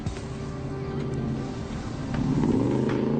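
A car engine runs steadily and then revs up louder near the end, a deep rumble up close during a police confrontation with no talk in the moment.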